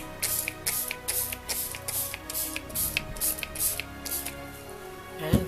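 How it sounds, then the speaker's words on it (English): White spray paint hissing from an aerosol can in a series of short bursts, each a brief airy spray separated by small gaps, fairly close and moderately loud. "the next step was to just use the white spray"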